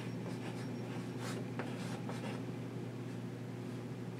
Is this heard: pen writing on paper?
yes